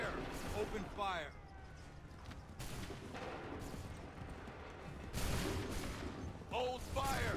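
Musket volleys fire in Assassin's Creed III, landing as a few broad, booming blasts spread across the moment while shouted orders and voices continue between them.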